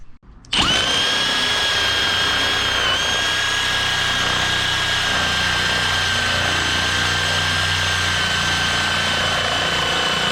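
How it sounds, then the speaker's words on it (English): Power drill boring a hole in a Vermeer LM42 plow blade, starting abruptly after a brief pause and then running as a loud, steady high-pitched whine for about ten seconds, alone. "Now I just gotta drill a hole there to put the chain on"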